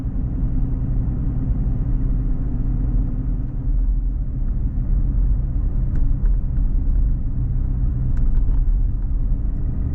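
Steady low engine rumble and road noise from inside a car cruising along a short country road near a lake in a Wisconsin state forest, constant and close with no voices.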